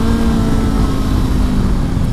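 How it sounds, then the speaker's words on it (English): A 2019 Honda CB500X motorcycle's engine running with a steady, buzzy, vibey drone, loud and close, with no talk over it. "The engine's a bit vibey and noisy."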